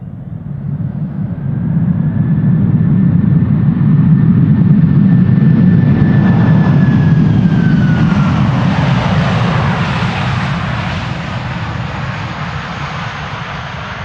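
A jet airliner landing with thrust reversers roars loudly as it passes close by, its broad engine rumble swelling then easing, with a thin whine sliding across above the noise.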